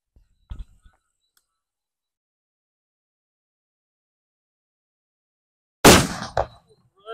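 A Super Bullet Bomb firecracker tested for Diwali goes off after a small early pop and several seconds of silence, a single loud, sharp blast that rings out briefly and is followed by a voice.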